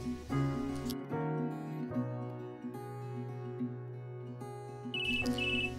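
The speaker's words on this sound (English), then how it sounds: "And then my phone rang." A phone ringtone plays a bright, melodic sequence of electronic tones that repeats over several seconds, steady and fairly loud with no voices.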